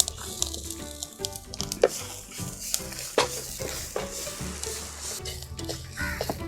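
Grated coconut roasts in a pan with cashews and roasted gram for kara kuzhambu, with a soft dry sizzle under repeated scraping and clinking strokes of a spoon against the metal pan, close and alone without voices.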